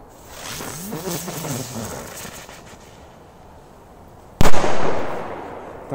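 A firecracker is thrown upward and bursts in a single sharp, loud crack after a few seconds of quieter crackling and hissing outdoors.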